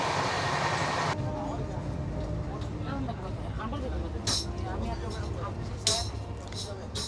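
Inside a passenger coach of an Indian train, with a steady low rumble of the moving carriage, rattles and occasional sharper clanks, while a person talks over it.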